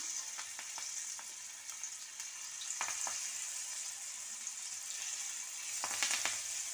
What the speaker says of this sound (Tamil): ஆயில் நல்லா ஹீட் ஆகிடுச்சுங்க வாங்க ஒன்று ஒன்று ஆட் பண்ணிக்கலாம்